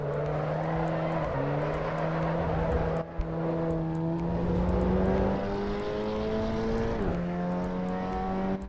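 A VW Golf 8 R in the Assetto Corsa Evo racing sim at Kyalami, its engine droning steadily and climbing in pitch through the gears, with brief dips at shifts and no talking.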